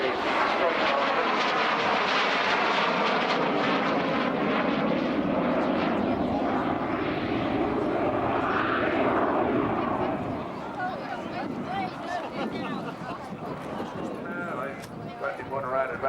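A Jet Provost T5 jet trainer passes overhead, a sustained loud whooshing engine roar that swells and then fades as it moves away, with someone talking over the sound throughout.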